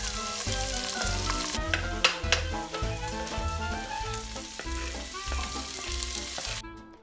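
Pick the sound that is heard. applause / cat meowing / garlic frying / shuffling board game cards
garlic frying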